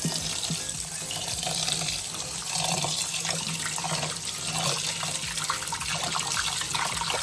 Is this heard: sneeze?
no